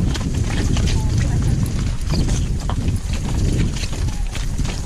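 Ponies' hooves clip-clopping outdoors in steady trotting rhythm, close and continuous under gusty wind noise on the microphone.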